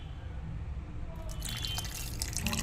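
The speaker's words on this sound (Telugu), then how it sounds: "అంటే చింతపండు నీళ్ళు ఉన్నాయి కదా, ఇవే వేద్దాం." Tamarind water tipped into a cooking pan, a short soft splash and trickle that grows busier after the first second, fairly quiet and close.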